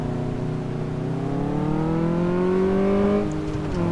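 A car engine revs on a test drive in Car Mechanic Simulator 2014, a close, steady mid-pitched drone rising smoothly in pitch over a few seconds before easing off.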